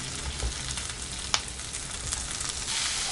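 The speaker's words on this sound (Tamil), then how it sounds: "அதாவது தக்காளி வந்து நல்லா வதங்கணும்" Tomatoes sauté in a pan for radish chutney, giving a continuous close sizzle with a brief stir clack partway through and no talking.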